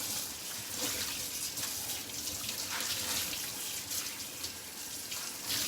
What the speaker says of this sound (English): Just going to rinse it out a tiny bit more.